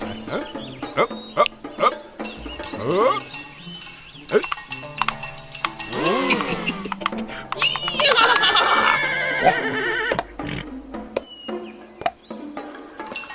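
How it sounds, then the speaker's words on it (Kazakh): Horses in an animated film neigh and whinny loudly several times, with clip-clop hooves, rapid sound effects and a busy cartoon soundtrack. "Оның жігіттерге алғашқы ұсынғаны бір ат болады."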